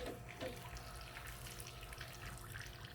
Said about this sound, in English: It's watering this area now, and watering all in this area